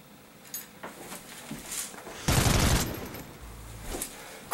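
A brief burst of rapid gunfire in Dead or Alive 5's story mode, one loud volley in the middle among softer thuds and clatter.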